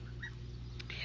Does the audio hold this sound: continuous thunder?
no